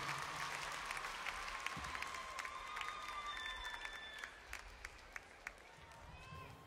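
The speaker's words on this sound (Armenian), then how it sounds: "Ուրեն ծափերը, ժողովուրդ։" An audience at a live concert in the Dolby Theatre breaks into sustained applause, a dense wash of clapping with a few whistles, heard from within the crowd and fading slightly toward the end.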